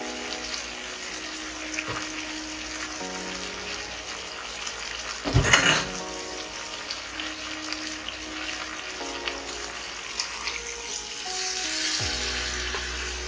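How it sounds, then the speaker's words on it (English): Water poured into a pot of Jamaican-style chicken curry, setting off a steady sizzle and frying crackle with a brief louder splash of pouring midway, no voices. "So I'll go ahead to add more water."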